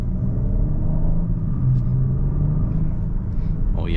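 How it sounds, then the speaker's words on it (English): A 2024 Genesis GV80 pulling ahead under throttle, heard from inside as a steady low engine and road rumble with a faint rising tone, continuous and close. "this thing just goes when you hit the gas pedal"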